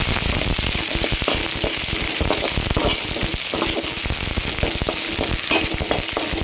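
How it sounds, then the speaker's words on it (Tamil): Onion and dried chillies fry in oil in a loud, dense crackling sizzle with rapid popping, close and continuous throughout. "எண்ணெய் ஊற்றி வெங்காயத்தையும் காஞ்ச மிளகாயும் போட்டு நல்லா வதக்கிக்கணுங்க"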